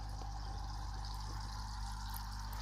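A Zacro 2.5W aquarium air pump on its lowest setting pushes a steady stream of bubbles through a fish tank, making a continuous soft gurgling fizz with a low hum underneath, fairly faint and unbroken.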